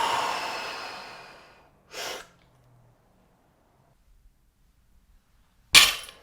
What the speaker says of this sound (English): Rep number 3, draw in, take my breath, stay tight